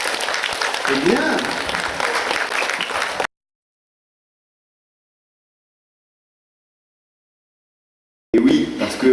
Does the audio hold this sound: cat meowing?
no